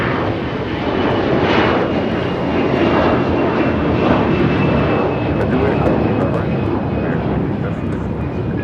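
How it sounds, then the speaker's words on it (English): An Air Canada Airbus A321 jet takes off at LAX with a loud, continuous engine roar that holds steady throughout, while voices murmur faintly beneath it. "This is Air Canada 792 taking off to Toronto on an A321."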